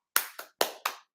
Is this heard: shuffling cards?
no